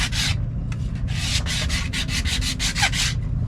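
Wooden planks being scraped and cleaned by hand: a series of short, harsh rasping strokes, close and loud, speeding into a quick repeated rhythm over a low background rumble.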